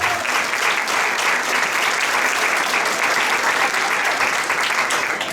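Loud, sustained applause from an audience at an intercultural gathering, a thick continuous roar of clapping that holds at an even level throughout.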